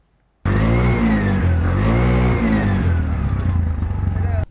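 A three-wheeled motorcycle tricycle in Benin bursts into a loud, close engine roar after a brief silence, its pitch rising and falling through repeated revs, with a voice speaking over it.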